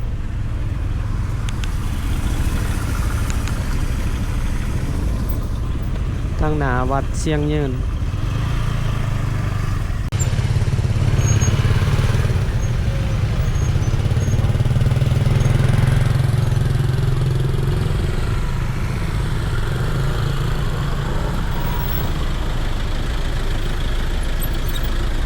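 Traffic sits jammed on a street in Sihom, Vientiane, Laos, with a constant rumble of idling car and motorcycle engines. One motorbike revs and passes near the middle, and a person talks over the noise.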